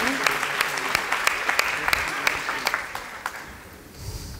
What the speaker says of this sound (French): On peut les applaudir, les enfants.